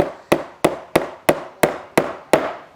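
Seven evenly spaced, sharp hammer blows strike a nail into a wooden birdhouse, each crisp knock ringing briefly before decaying, loud and close with no talking.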